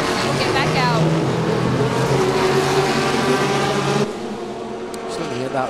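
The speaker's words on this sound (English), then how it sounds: "Hear the car fired up, so they have got this figured out." The engine of the Dempsey Racing Lola prototype race car fires up at Laguna Seca during a 2012 ALMS race, a loud sustained roar that drops off sharply near the end, under a commentator's voice.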